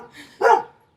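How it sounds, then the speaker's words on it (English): A dog barks outdoors, a single sharp woof preceded by a softer yip, heard fairly close and alone. "The dogs are barking."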